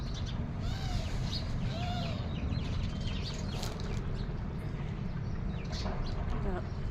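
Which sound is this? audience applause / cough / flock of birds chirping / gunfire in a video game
flock of birds chirping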